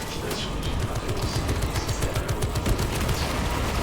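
Gunfire in the video game Warhammer 40,000: Space Marine 2, a dense continuous barrage of rapid shots and rumbling explosions filling the whole short stretch, loud and busy.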